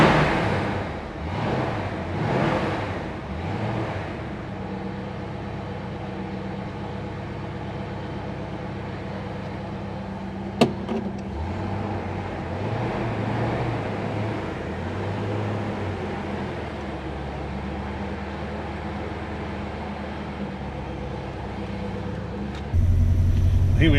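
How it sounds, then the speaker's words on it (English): A 1965 Ford Mustang coupe with a 289 V8 and five-speed manual is heard from inside while driving, a low steady engine drone with shifting revs and road rumble, and a brief click partway through. "Here we are driving this fabulous 65 coupe."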